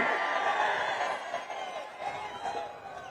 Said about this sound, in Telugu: ఇది మంచి కార్యక్రమం అనుకుంటే గట్టిగా చప్పట్లు కూడా చెప్పండి